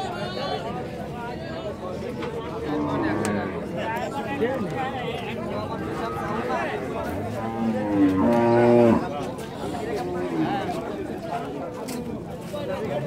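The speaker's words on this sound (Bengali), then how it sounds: "সামনে আর একটি লাল গরু" Dairy cattle, including a red cow, at a Bangladeshi cattle market, with a loud, drawn-out moo standing out near the middle over constant crowd chatter and close conversation.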